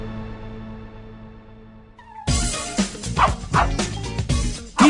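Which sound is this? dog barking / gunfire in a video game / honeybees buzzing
dog barking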